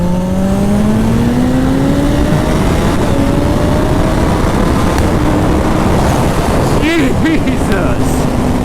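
A 300 HP turbocharged Hayabusa motorcycle accelerates hard on a cool day, its loud engine note climbing steadily in pitch through the gears. A voice briefly cuts in near the end.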